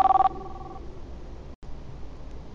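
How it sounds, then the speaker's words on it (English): A telephone rings briefly at the very start, a short bright electronic trill that cuts off within a fraction of a second, leaving a faint low room hum. "The phone rang."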